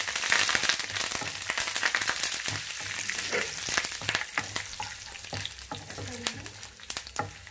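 Curry leaves crackling and spitting in hot oil alongside peanuts while tempering vurimindi chithrannam, a traditional Brahmin rice dish; dense, close sizzling with sharp pops that gradually thin out, no voices.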